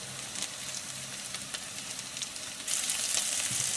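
Shallots, garlic and broad beans frying in hot oil in a pan, a steady hiss and crackle that swells louder toward the end, close up and without voices.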